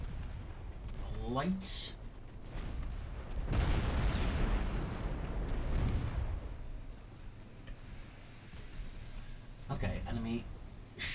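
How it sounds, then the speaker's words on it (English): Cruisers firing naval guns in the naval warfare game Ultimate Admiral Dreadnoughts, several heavy booming salvos with rolling rumble, the loudest burst lasting a few seconds mid-stretch, while someone talks between shots. "some of my cruisers are starting to shoot at the"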